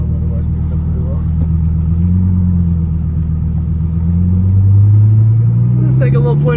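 A twin-turbo Gen II Audi R8 drives along with a loud, steady engine drone and rumble that climbs in pitch as it accelerates near the end, heard from inside the car with a voice talking over it.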